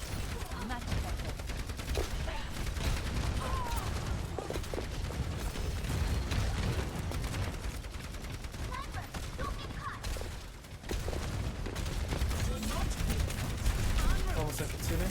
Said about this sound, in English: Sounds like Widow's trying to fight